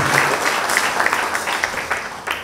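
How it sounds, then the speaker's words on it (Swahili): A church congregation at a Lutheran service in Mabwepande, Tanzania, applauding together, a dense, sustained crowd clapping with uneven individual claps standing out over the wash. "Tumpigie Bwana makofi mengi"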